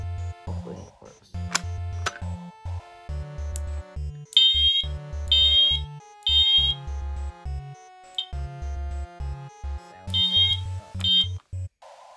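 A fire alarm notification appliance sounds a coded pattern after a pull station is activated, on a fire alarm panel under construction: repeated electronic tones and horn bursts in a rhythmic on-off code, loud and close, with no talking.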